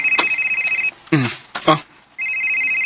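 A phone rings with an incoming call, a repeated electronic ringtone that plays loud and steady, breaks off for a moment of other sounds, then resumes ringing.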